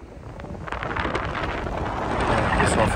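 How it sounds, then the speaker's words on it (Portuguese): Strong wind buffets the microphone on the beach at Praia do Forte, Itamaracá Island, Pernambuco, Brazil, with a steady roar that builds and grows louder toward the end. "Tá ventando demais, desconsidera aí o vento"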